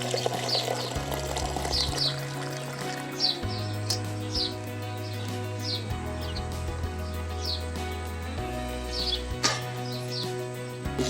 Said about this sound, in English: time for the first recirculation